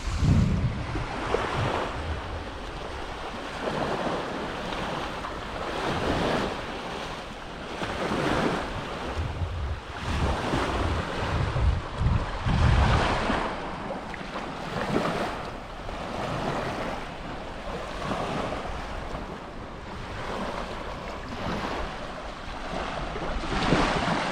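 Waves washing onto a sandy beach at Vlorë, Albania, a steady broadband surf roar with rolling swells and wind buffeting the microphone, no talking.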